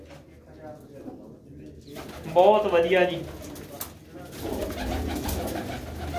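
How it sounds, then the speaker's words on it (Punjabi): Pigeons in a loft coo in a short burst of warbling calls near the middle, with a brief spoken remark close by and a rougher rustling background afterward. "ਠੀਕ ਆ ਠੀਕ ਆ ਜੀ, ਮੇਰੇ ਵਾਲੇ ਕਬੂਤਰਾਂ ਚੋਂ।"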